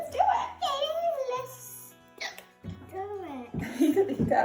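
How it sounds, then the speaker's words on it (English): A young toddler hiccups several times in short, sharp catches during an art and alphabet lesson at home, close and clear, with an adult speaking in between. "You got the hiccups."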